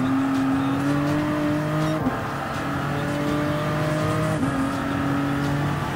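Vision Gran Turismo Group 1 race cars run at Le Mans in Gran Turismo Sport. A high engine whine holds steady and climbs through gear shifts, with brief dips around each change, close and continuous.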